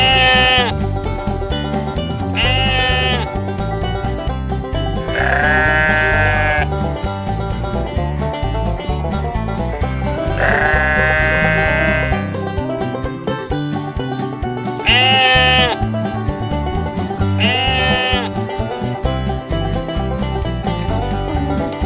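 A ram on a farm lets out repeated wavering bleats, several drawn-out calls spaced a few seconds apart over a steady, busy background.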